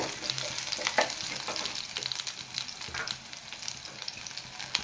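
Onions fry for a village-style mutton sambar, a steady close sizzle broken by scrapes and knocks from stirring, with no talking.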